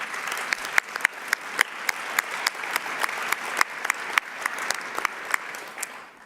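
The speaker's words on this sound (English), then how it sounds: "why don't we give you a round of applause for that." A small audience at an education conference session gives a round of applause, with scattered, distinct claps heard fairly quietly and no talking over them.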